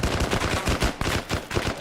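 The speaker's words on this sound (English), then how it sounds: "Heard gunfire to our north, not able to check if that's friendly or not." Rapid bursts of video game automatic gunfire crackle in quick succession, loud and close, with short gaps between volleys and no talking.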